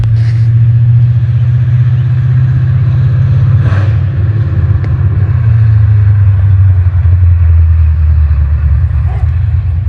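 A 1968 Ford Mustang drives past on a test drive with a loud, steady engine rumble that shifts pitch as it moves, heard outdoors with no talking.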